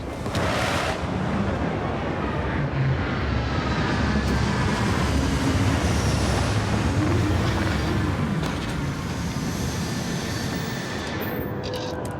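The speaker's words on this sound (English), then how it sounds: "Landing struts primed, retros firing." Spaceship retro thrusters fire during a landing in Starfield, a loud, steady roaring rumble with broad hiss that holds evenly for the whole stretch, with faint tonal hum layered beneath.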